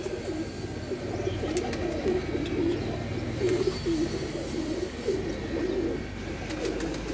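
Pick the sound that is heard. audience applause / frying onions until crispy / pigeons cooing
pigeons cooing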